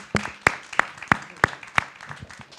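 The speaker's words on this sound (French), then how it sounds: "et ces applaudissements d'ailleurs" A small audience at a talk on Greek tragedy and poetic translation gives sparse applause: half a dozen sharp, separate claps at a steady, unhurried pace, close and fairly quiet.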